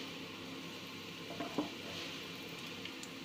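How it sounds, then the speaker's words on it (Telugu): Raisins frying in a pan after cashews were fried, giving a faint, steady sizzle with a couple of soft stirring clicks near the middle. "కిస్మిస్లు త్వరగా వేగిపోతాయి"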